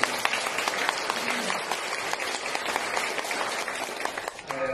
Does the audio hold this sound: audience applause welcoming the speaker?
yes